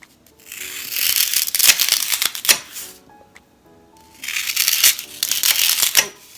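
Dry floral foam pieces being cut in half with a blade, two loud bursts of crisp, crunchy scraping separated by a brief quiet pause, close up.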